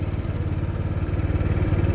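Honda PCX scooter engine idling steadily with a low, pulsing throb, the revs easing down slightly, close and loud, with no talking.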